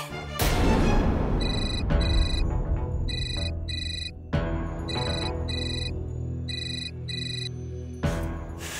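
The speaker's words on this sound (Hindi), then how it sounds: "क्या हुआ रुद्र, फोन क्यों किया है?" A loud electronic phone ringtone repeats in short bursts over heavy booming dramatic music in a TV drama scene, with no talking.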